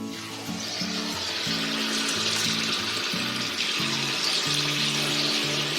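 Spoonfuls of pakora batter sizzle in hot oil, a continuous loud hiss and crackle of frying that runs steadily throughout, with no talking.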